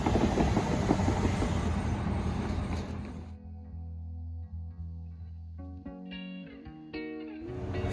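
A train rumbles past the train station in Bryson City, North Carolina, with a heavy clattering roar that drops away after a few seconds, leaving low humming and tonal rail sounds.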